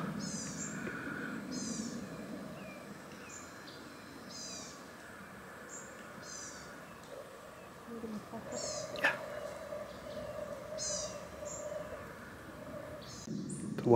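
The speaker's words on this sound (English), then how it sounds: "we can hear the woodpecker chattering" A woodpecker chatters outdoors at Lake Louisa in Florida, giving short repeated rattling bursts at steady intervals from a moderate distance. The calls sit over quiet open-air ambience with occasional louder noises.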